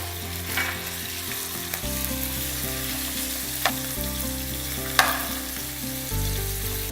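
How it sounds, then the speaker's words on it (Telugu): Chicken keema frying in hot canola oil in a pan gives a steady, close sizzle throughout, with soft background music beneath and no talk. "సో ఆయిల్ వేడైంది కదా, దానిలో మనం వెంకాప్ చికెన్ కీమా వేసి ఫ్రై చేసుకుందాం"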